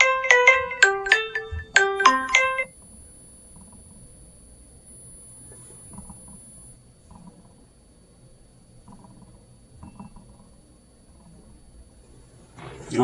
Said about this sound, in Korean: 핸드폰이 울려서